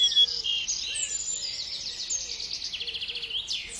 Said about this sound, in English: sandpiper